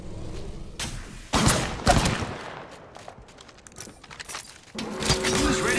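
Video-game gunfire in bursts: sharp loud shots around the first and second seconds, then scattered lighter pops and a denser barrage rising near the end, over steady background game noise.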